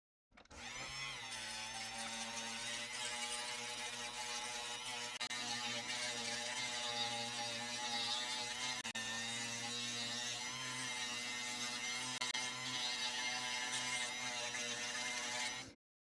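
A rotary tool fitted with a 1200 grit Nova burr polishes a gemstone, a steady high motor whine running unbroken for about fifteen seconds at a fairly quiet level.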